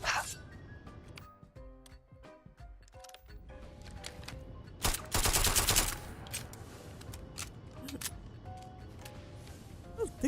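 Bursts of gunfire aimed at a ship in Starfield, a loud dense volley in the middle with scattered shots before and after, over game background sound.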